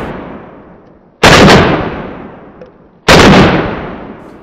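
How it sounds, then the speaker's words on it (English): Two loud, sharp shotgun blasts from a Beretta 1301 Tactical at an outdoor range, about two seconds apart, each trailing off in a long echoing decay with no talking. "It's an exceptionally pleasant gun to shoot."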